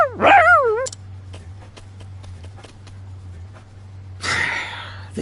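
A dog barks and whimpers in the video game Partitio The Merchant, with a loud yelping burst at the start and another near the end over a steady low hum and soft ticking sounds.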